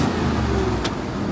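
A cheap Chevrolet Silverado pickup truck pulls away, its engine humming steadily up close with a low rumble. One brief click sounds partway through, and no one speaks.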